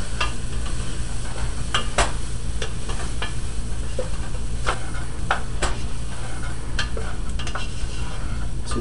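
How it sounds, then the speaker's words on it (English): Butternut squash being stirred around in a pot for roasted squash soup, giving a constant loud sizzle and hiss with repeated sharp scraping and clinking strokes of the spoon, close and continuous with no talking. "Add in our butternut squash. Get that in the pot, stir it around."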